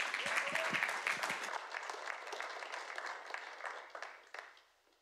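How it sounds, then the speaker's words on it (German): Audience applause greets a speaker at a church service in Lichtenfels, a dense burst of clapping that thins out and fades over several seconds. "Christian, wir bitten dich, dass du herkommst mit einem herzlichen Applaus, begrüßt ihn."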